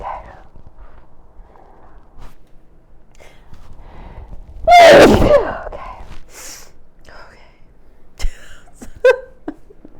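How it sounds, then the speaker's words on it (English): A single loud sneeze bursts out mid-clip, followed by some quieter rustling and small handling noises in an otherwise quiet room. "I'm gonna sneeze, hold on."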